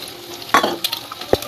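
An egg fries in a pan with a soft, low sizzle. A few sharp scrapes and taps from stirring break in close by.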